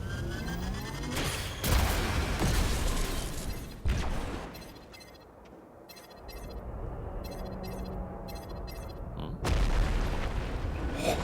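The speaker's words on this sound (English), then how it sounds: "let's try some missiles first" Missiles fired in Metroid Prime 4 as a run of loud, booming blasts and bursts of gunfire, with explosive hits and rumble spread across the clip and no talk.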